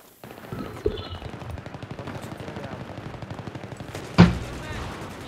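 Rapid bursts of gunfire in Battlefield 3 on Operation Metro rattle steadily throughout, with a louder blast near the end, game-style shooting up close and continuous.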